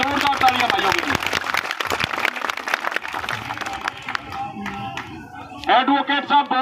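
Crowd applause at a 26 January political gathering, loud, dense clapping from many people across most of the stretch, mixed with some talk, then a fresh burst of clapping near the end.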